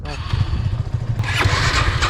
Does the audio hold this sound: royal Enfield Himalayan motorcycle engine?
yes